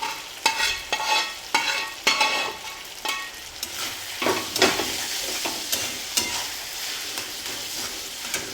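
Leftover chapati churma is stir-fried with egg bhurji in a pan, with a loud, close sizzle under repeated rhythmic scrapes and knocks of a spatula against the metal.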